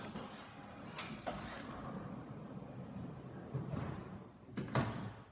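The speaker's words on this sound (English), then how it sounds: "this one's got twin electric sliding doors" Twin electric sliding doors on a 2018 Volkswagen Caravelle T6 van run with a low mechanical whirr and rumble, with a few sharp clicks and thuds as they move and latch.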